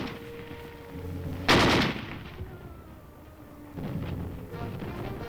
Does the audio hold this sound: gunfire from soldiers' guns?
yes